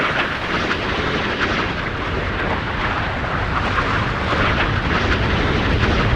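A warship's magazine blowing up in the naval video game Sea Power, heard as a sustained, dense roaring rumble of fire and explosion that stays loud and steady throughout without clear separate blasts.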